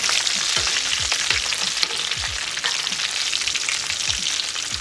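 A whole mangrove snapper frying in oil sizzles loudly and continuously, with bright crackling spatter and occasional low bumps of stirring or scraping in the pan.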